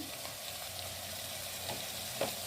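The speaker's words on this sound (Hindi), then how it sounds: "और इन सबको हम अच्छे से मिक्स कर लेंगे।" Green chillies and boiled macaroni are stirred together in a hot pan as a momo stuffing is made, giving a steady soft sizzle with faint scraping stirs and one brief louder clink near the end, with no talk.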